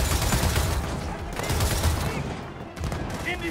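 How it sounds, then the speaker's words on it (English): A mounted .50 cal turret in Gears of War 4 fires continuous heavy bursts, loud and close, with rapid rattling shots that keep going with only a short dip before resuming, plus other battle noise behind them. "I just rip them apart with this 50 cal or whatever it is"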